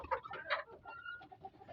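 Poultry chickens cluck nearby, a run of short, fairly quiet, irregular clucks and murmurs with no talk over them.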